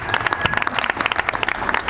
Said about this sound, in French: Bonne main d'applaudissements pour le premier match.